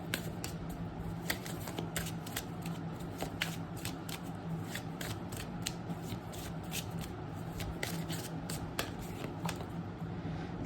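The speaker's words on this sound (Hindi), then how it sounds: "तो सबसे पहले हम कार्ड्स निकाल देते हैं," Tarot cards drawn and shuffled close by, a steady stream of soft card slides and sharp flicks over a constant low background hum, with no speech.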